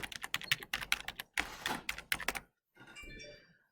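Fast clicking keystrokes on a nearby computer keyboard go on for about two and a half seconds, then stop, and a faint softer sound follows.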